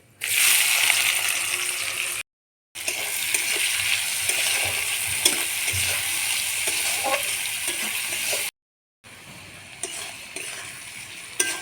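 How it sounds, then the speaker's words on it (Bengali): Chopped onions frying in a pan for Bengali chicken biryani, after whole spices (cumin, mace) and sugar, giving a steady close sizzle with light stirring scrapes and two brief silent gaps. "ফোড়নটা ভাজা হয়ে গেছে, এবার কুচনো পেঁয়াজগুলো দিয়ে দেবো"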